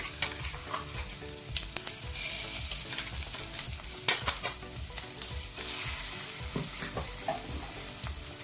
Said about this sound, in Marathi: वाटण सुद्धा आपण दोन ते तीन मिनिटं चांगलं परतून घेऊया